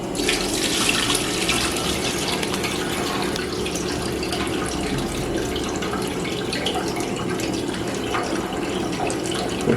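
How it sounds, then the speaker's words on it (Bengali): Rice is washed in a pot under running water, a continuous close splashing and pouring that stays steady throughout with no talk. "চাল আমাদের ধোয়া হচ্ছে এখন আর একবার জল দিয়ে দেবো"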